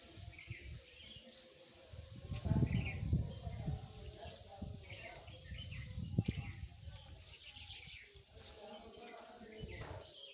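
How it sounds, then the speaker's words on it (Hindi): Birds chirp and call around a house garden full of plants, with scattered bright tweets and a possible dove coo over a low rumbling background of breeze and faint voices. "चिड़ियों की आवाज़ भी सुन सकते हैं।"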